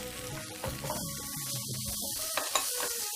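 Vegetables drop into a hot pan and sizzle steadily, with stirring scrapes and small pops close by, a dense frying hiss filling the short stretch without speech.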